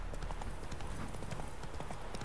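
Hooves of Roach, the horse in The Witcher 3, pound in a fast, steady galloping rhythm, close and loud throughout the short stretch.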